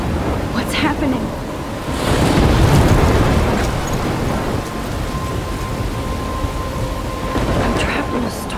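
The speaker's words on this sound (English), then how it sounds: "I'm trapped in a storm?" Thunderstorm in the game Life Is Strange: steady heavy rain with rolling thunder swelling around the middle, a broad continuous roar.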